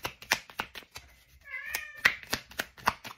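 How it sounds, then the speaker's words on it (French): A small cat meows once, a clear drawn-out call near the microphone, set among sharp clicking taps that recur throughout the quiet room. "Mon petit chat, il est venu me voir."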